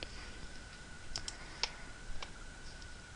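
Computer mouse clicks while setting up a Minecraft server on a PC, a few sharp, close, isolated clicks over a quiet room hum with no talking.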